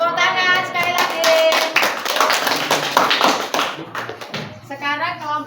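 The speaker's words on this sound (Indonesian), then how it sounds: "Tepuk tangan sekali lagi." A class of students claps for a classmates' presentation group in a school crafts lesson, a burst of close, scattered hand claps with children's voices talking over and around it, fading out near the end.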